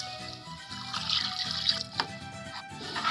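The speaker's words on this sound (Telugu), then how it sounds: "నేను 3 గ్లాసులు బియ్యానికి 6 గ్లాసులు వాటర్ వేస్తున్నానండి." Water is poured into a cooking pot to boil three glasses of rice for a phool makhana pulao, a soft, steady splash and trickle, faint and close, with no voices.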